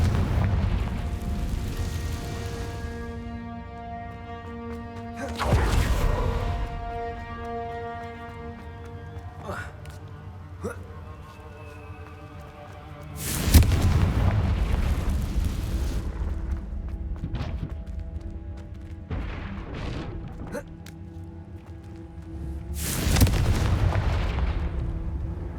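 Confringo explosive spell blasts in the Hogwarts Legacy video game, four heavy booms spaced several seconds apart over a sustained musical score, each one loud and close with a rumbling decay.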